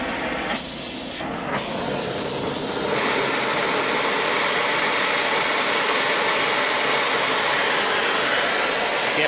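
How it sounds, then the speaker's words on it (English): A small Smith oxygen-acetylene torch with a number 2 tip burns with a steady, loud, close roaring hiss that flares up after a couple of brief sputters and holds constant to the end. "So I'm using an oxygen acetylene torch."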